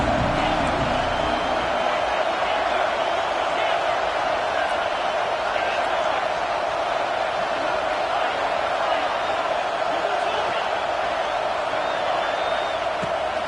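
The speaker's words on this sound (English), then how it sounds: "this crowd trying to help keep them there" Steady roar of a football stadium crowd, a broad continuous wash of noise holding at a constant level throughout, with faint scattered shouts and whoops within it.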